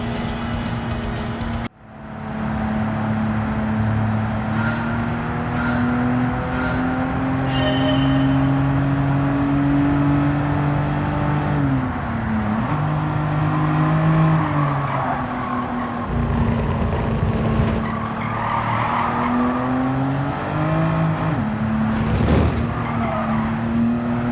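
A race car in Gran Turismo 7 runs flat out with a loud, sustained engine wail that climbs and dips through gear changes, with brief tire noise as it corners, after a quiet start.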